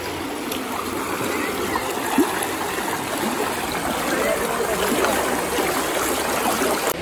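The fast-flowing Achankovil river at a forest eco-tourism boating spot in Pathanamthitta, Kerala, gives a steady, close, broadband rush of water with small splashes that holds even throughout.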